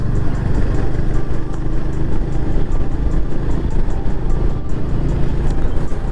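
A Royal Enfield Hunter 350 motorcycle engine on the move: a loud, steady low rumble with broadband wind and road noise and no clear breaks, heard from the rider's position.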